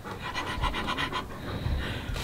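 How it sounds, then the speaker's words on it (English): A dog pants rapidly and steadily close by, a rhythmic run of quick breaths with no talk. "You're noisy, you need to keep your panting down a bit."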